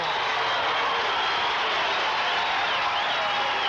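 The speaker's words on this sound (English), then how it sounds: "Listen to the crowd." A crowd at a 1978-79 Morton Potters high school basketball game roars and cheers without letup, a loud, dense wash of voices filling the gym from start to finish.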